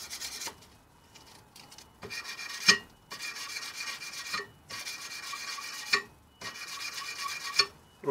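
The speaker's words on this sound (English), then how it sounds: "it's nice that the sandpaper is skating over the top of all this now" Sandpaper rubs back and forth over a knife blade made from an old metalworking file, each stroke a close, gritty rasp, repeated in a steady rhythm of about five strokes with short pauses between.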